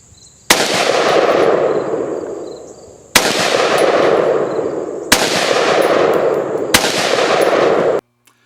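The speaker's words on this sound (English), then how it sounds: "So here's what an AR-15 firing looks like." Four loud, sharp shots from an AR-15 rifle fired semi-automatically, spaced about two to three seconds apart, each followed by a long, rolling echo that fills the gap before the next shot.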